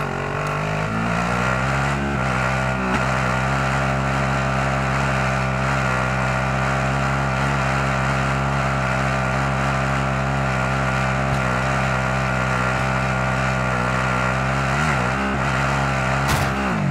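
Car driven in the video game Warzone, a loud steady engine drone with layered harmonic tones that shift briefly near the middle and end, running continuously without a break.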